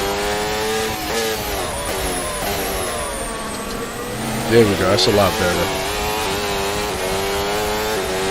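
A race car engine in a VR racing game holds loud, steady high revs with rising and falling pitch, the sound of cars running wheel to wheel, while someone talks over it.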